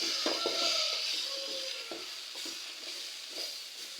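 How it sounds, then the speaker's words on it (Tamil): Spice powders frying in a pan for a village-style chicken curry make a soft, steady sizzle, punctuated by repeated clinks and scrapes of a spoon stirring at close range. "பொடியெல்லாம் நல்லா பச்சை வாசனை போக நல்லா ஃப்ரை பண்ணிட்டேங்க"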